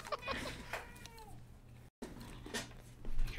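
A cat meows indoors, a few thin, wavering cries near the start, heard faintly over background noise and game sounds, with a brief dropout midway.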